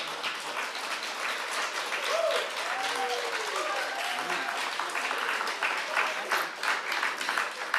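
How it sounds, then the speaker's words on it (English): Applause breaks out in city council chambers after a unanimous resolution vote, a steady wash of clapping from a crowd with some voices mixed in, carrying on at a fairly even level throughout. "no clapping in the chambers"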